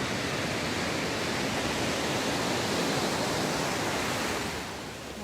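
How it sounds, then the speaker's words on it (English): Surf rolling onto a beach in Perth, Australia, a dense, loud roar of breaking waves that holds steady throughout and eases slightly at the very end, with no voices. "it's pretty loud with the waves crashing at times"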